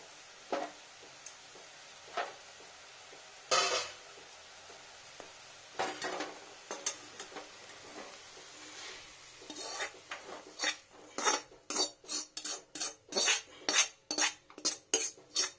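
Cooked red spinach being scraped and poured from a metal pan, with sparse utensil clinks at first, then a quickening run of sharp metallic scrapes and knocks toward the end, close by and with no talk.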